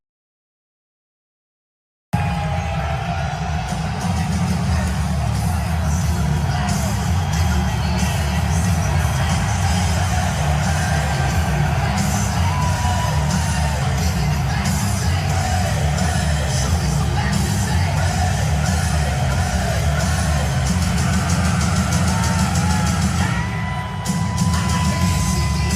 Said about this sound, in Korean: 어마어마하게 소리를 질러가지고 이 우리와 같은 함성이 정말로 대단했다 그럽니다